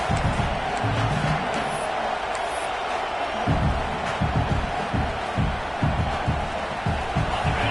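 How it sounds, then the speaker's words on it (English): Roaring stadium crowd in the College Football 26 video game makes a constant loud wall of cheering and whooping on a fourth-down play, with heavy low rumble and occasional sharp shouts. "this crowd is making it miserable on this offense"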